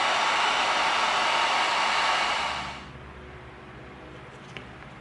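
A heat gun blows hot air while heat sealing EVA foam pieces, a steady close whooshing roar for nearly three seconds before dropping away to quiet room noise with a faint click.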